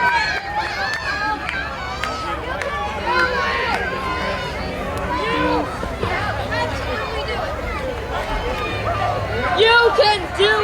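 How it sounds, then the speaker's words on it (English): Children cheer and shout together for contestants at a Fourth of July watermelon eating contest, a lively babble of many young voices rising and falling, with an adult voice speaking among them. "Kids are cheering you on"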